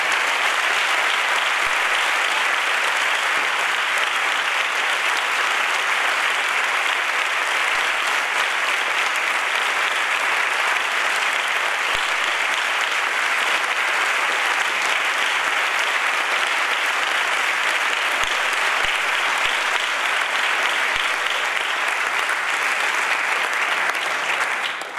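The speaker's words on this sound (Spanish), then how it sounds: "Por eso yo les pediría un grandísimo aplauso por el esfuerzo que han hecho durante todo el día." A New Year's Eve 2016 concert audience in Tarifa gives a music band long, loud and sustained applause, an unbroken roar of many hands clapping.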